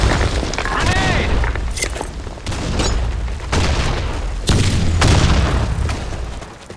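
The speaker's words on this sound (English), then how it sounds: "Fire in the hole! Grenade!" Grenade blasts and gunfire boom repeatedly in the online shooter BlackShot, loud and dense, with game voice callouts mixed among the explosions.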